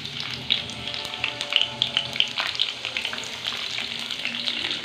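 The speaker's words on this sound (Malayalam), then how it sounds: "മൂന്ന് വെളുത്തുള്ളി ചെറുതായിട്ട് അരിഞ്ഞെടുത്താണ് നമുക്ക് അതിലോട്ട് ഇട്ട് കൊടുക്കാം" Chopped garlic, three cloves, frying in hot oil after mustard seeds: a close, busy sizzle with crackling pops and spits, plus a few light stirring scrapes throughout.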